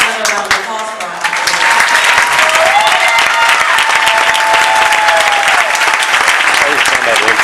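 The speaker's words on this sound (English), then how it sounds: "Let's have another round of applause for our" Graduation ceremony audience in an arena applauding loudly and steadily, a dense continuous wash of clapping with some cheering, sustained at close range throughout.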